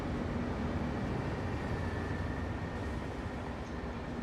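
A video-game train in Train Sim World, an MP36 on the San Francisco to San Jose route, rumbles steadily through a tunnel, its low continuous roll quiet and even.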